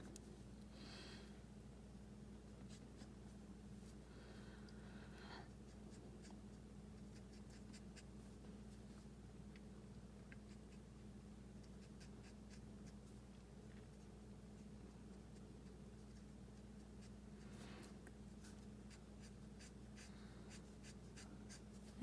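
A pencil scratches across paper while drawing, soft scraping strokes coming in irregular bursts over a long quiet stretch, close and faint against a low steady background hum.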